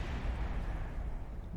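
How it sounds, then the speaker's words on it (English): A missile's proximity explosion in Kerbal Space Program with BD Armory during an airborne carrier fighter test, a brief low rumbling boom that rolls on steadily and fairly quietly for just over a second. "Absolutely nailed by the proximity explosion."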